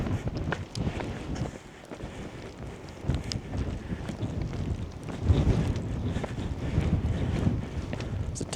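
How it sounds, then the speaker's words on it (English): Wind gusting across a hillside campsite beside a lightweight tent, a steady loud rumbling roar buffeting the microphone for the whole stretch, strengthening toward the end, with no talk heard. "Tiny bit windy"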